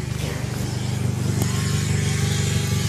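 A 1996 Renault Clio with a loud aftermarket exhaust revs up close outdoors, its deep throbbing engine note rising and holding at a raw, rumbling pitch.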